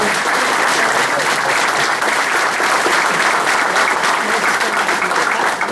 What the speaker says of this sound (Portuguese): a salva de palmas aqui